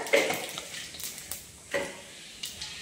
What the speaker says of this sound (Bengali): ফোড়নে দিয়ে দিলাম শুকনো লঙ্কা ফাটিয়ে নিলাম, দিয়ে দিলাম কিছুটা গোটা জিরে